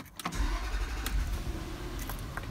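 A Range Rover L322 engine cranks briefly and catches, then settles into a steady, close, low idle rumble with no voices.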